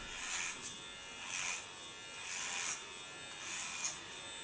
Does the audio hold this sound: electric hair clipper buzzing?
yes